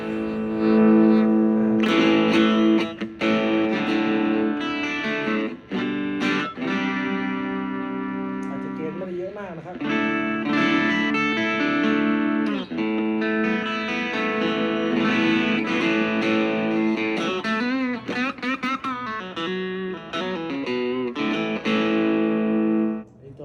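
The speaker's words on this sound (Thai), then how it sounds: "ผมจะลองเล่นเป็นโอเวอร์ไดก่อนนะ เป็นแตกอ่อนๆก่อนนะ" A custom-assembled Fender SRV-style SSS electric guitar with light overdrive plays sustained chords and melodic runs, mildly gritty and continuous, with no talking.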